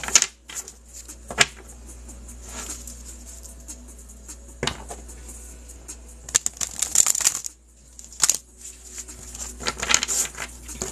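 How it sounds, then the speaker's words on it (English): Tarot cards being shuffled by hand, intermittent riffling and slapping bursts separated by quiet gaps, close and fairly soft, with occasional sharper clicks. "Okay, let me shuffle."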